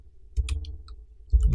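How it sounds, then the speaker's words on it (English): Short bursts of computer keyboard keys being typed: a quick cluster of clicks, a pause, then another burst, close and fairly soft, with a low hum beneath. "And now we will type our text."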